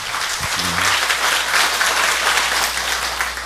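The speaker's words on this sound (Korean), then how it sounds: "자, 하나님께 영광의 박수." Congregation applauding in a church during a Sunday service, a loud sustained burst of many hands clapping, with a brief low thump at the start.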